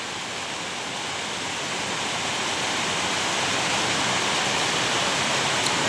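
Flood water after a night of heavy rain rushes in a dense, steady, loud roar with no breaks, and no voices are heard.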